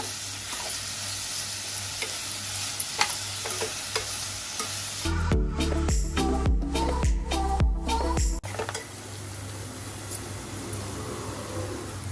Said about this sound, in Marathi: आता हा कांदा आपल्याला लाल करेपर्यंत शिजवायचा आहे.